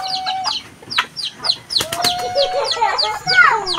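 Chickens and roosters cluck and squawk in a busy, overlapping flock, with short calls coming repeatedly at close range and a few longer, stretched cries.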